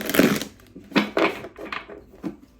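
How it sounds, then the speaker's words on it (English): Tarot cards being shuffled by hand, a few separate crisp riffling bursts with short pauses between them, close and fairly loud. "I'll do one more shuffle."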